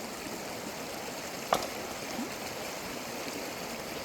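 Steady broadband rush of a shallow river stream flowing at low water, constant and moderately distant, with a brief faint knock partway through.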